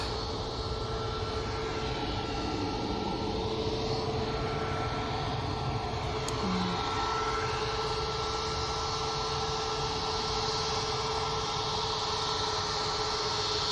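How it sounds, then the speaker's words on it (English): A Ryanair Boeing 737 Max departs from Manchester Airport, its engines producing a steady, broad roar that holds evenly throughout with a faint tonal whine above it. "next out, we've got a Ryanair Max"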